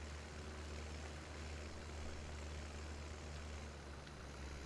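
Farming Simulator 17 tractor pulling a baler with the pickup lowered, a steady low engine drone and mechanical hum, quiet and constant for several seconds with no talking.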